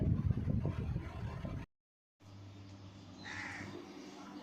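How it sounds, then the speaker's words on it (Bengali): A pair of common mynas calls nearby with harsh, croaky bursts over faint background noise; the sound cuts out briefly, then a clearer run of calls follows. "ও জোড়া শালিক এসছে দুই শালিক"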